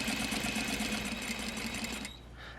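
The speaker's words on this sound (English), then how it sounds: "I am just going to start sewing at the bottom, and I'm going to sew up one side" Sewing machine stitching fabric up one side of a tailored placket, a close, fast mechanical whirr with rapid needle ticks for about two seconds before it stops.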